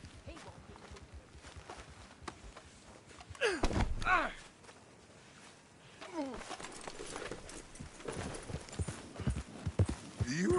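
Horse hooves clip-clop steadily in Red Dead Redemption 2, a continuous rhythmic trot close by with brief breaths and snorts mixed in, and the gait swells louder midway.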